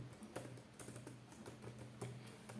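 Rapid clicking of a computer keyboard, close and steady, with irregular keystrokes running throughout and no talking.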